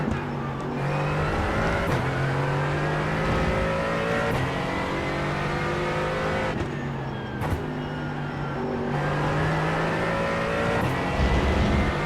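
A race car engine heard from inside the cockpit during a recovery drive at Laguna Seca. It revs hard and steadily, its pitch climbing and dropping through gear changes, loud and close throughout with no talking.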